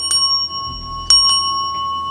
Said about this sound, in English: I like to use the bell because it cleanses the area.